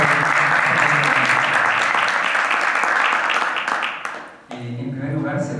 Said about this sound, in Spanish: Para ella les pido por favor un gran aplauso.